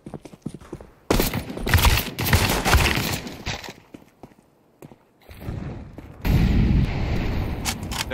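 Pistol and rifle gunshots in Counter-Strike 2 on the Cobblestone map, a few loud sharp bursts of shots with quieter pauses between them and no talking.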